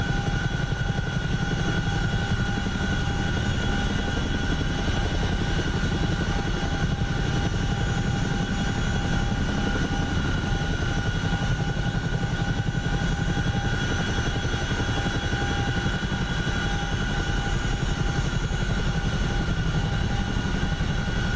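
A Chinook helicopter in the DCS World flight game gives a loud, steady rotor and engine drone that holds unbroken throughout, with no talk over it.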